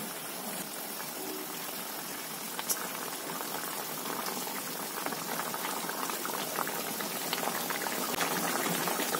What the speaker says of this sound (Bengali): ঝোল ফুটে আসছে